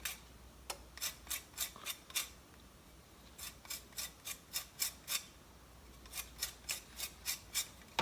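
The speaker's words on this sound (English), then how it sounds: "So here is the lime. A little bit of the zest." A lime is scraped across a kitchen grater for zest in short bursts of quick, crisp rasping strokes, several groups of four to six scrapes separated by brief pauses, quiet and close.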